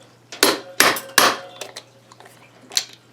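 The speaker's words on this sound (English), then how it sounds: "it's a punch, and not a punch, an impact, a very crude impact tool, but it works really well for loosening things up" A crude punch-style impact tool strikes a 1980 Suzuki FZ50 crankcase to loosen it: three sharp metallic hits in quick succession, then softer rattles and one more knock, close and loud.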